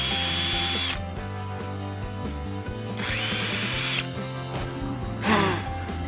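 A power drill bores holes in wood for a wooden wall-art piece, whining loudly in three bursts, each spinning up and then cutting off, separated by brief quieter pauses.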